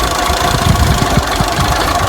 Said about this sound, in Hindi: तो भाई ट्रैक्टर पे चढ़ा हुआ है,